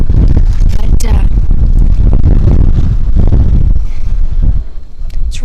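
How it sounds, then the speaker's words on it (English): Strong wind roars and buffets the microphone in a deep, rumbling rush across a valley on Adak Island, easing slightly near the end. "it's really windy"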